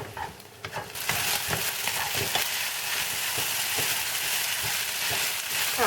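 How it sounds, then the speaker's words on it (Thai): Pasta with eggs, bacon, black pepper and light soy sauce is stir-fried dry in a pan: a steady loud sizzle of frying broken by repeated scraping and stirring strokes, with no voices. "ผัดไปค่ะให้แห้งจะเป็นผัดแห้งนะคะ"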